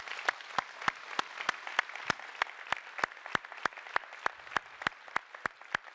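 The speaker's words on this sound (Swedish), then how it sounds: "Applåder." An audience at an autumn meeting of the Swedish National Heritage Board claps in steady unison, with evenly spaced, sharp claps about three per second, fairly close and with no talk over them.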